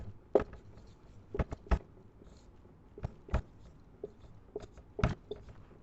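Pen strokes scratching across paper, a handful of short, close scribbling bursts separated by quiet pauses, alone without talk.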